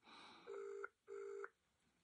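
Two short, quiet telephone keypad tones sound one after another with a brief gap, as a call to the Samaritans is dialled.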